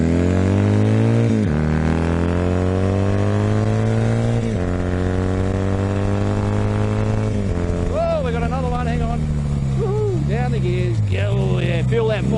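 A Honda CB250 motorcycle engine drones loud and close while riding, with repeated pitch drops and rises as it changes down through the gears, and someone talks over it near the end.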